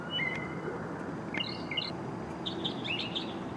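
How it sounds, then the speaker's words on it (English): A bird chirps at night in town, giving a few short high tweets and brief trills at the start and again later, audible over a steady low rumble of a parked Mercedes-Benz GLE450 4Matic SUV's surroundings. "Bird follows me all over town, even at 2 o'clock in the morning."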